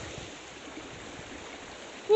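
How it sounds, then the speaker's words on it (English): River flowing through the town of Cowbridge in South Wales, a steady soft rushing wash of water heard from nearby, ending in a brief louder bump. "Proper flowing river this is."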